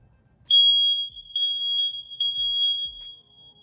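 A household smoke detector sounds during a button test: one loud, piercing steady tone, briefly broken a few times, lasting about three seconds over near silence.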